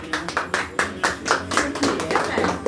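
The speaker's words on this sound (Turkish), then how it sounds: "Bir alkışlayalım." A small group of people claps in a fairly close indoor space, the hand claps coming in uneven, separate bursts that rise and fall rather than merging into a steady roar.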